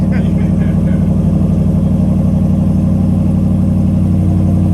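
A pickup truck rumbles loudly and steadily at idle on a cold start, deep exhaust drone filling the whole stretch with no letup.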